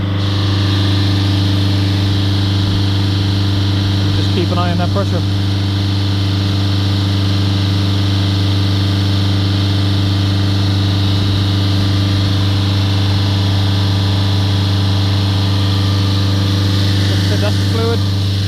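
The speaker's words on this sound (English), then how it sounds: "The DPF is quite close to the manifold on this, so we'd do it with the engine running." A Mercedes A180 diesel engine idles close by with a constant, loud drone during diesel particulate filter cleaning. Someone speaks briefly over the running engine.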